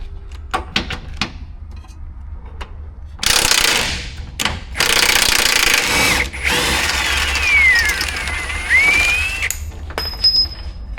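An air impact gun spins a control arm nut off a Jeep Compass AWD under collision repair in a shop. It comes as several loud, sustained bursts of rattling hammering, with brief mechanical clicks and clanks around them and no talk.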